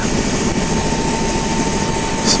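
Loud, steady engine roar from three idling helicopters nearby preparing to take off at the Grand Canyon, with a constant high whine running through it.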